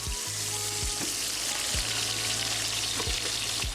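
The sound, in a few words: onions frying in oil for egg biryani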